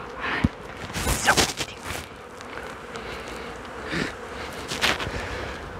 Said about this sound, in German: Das nenne ich mal einen großen Schwarm. Eine Menge Bienen.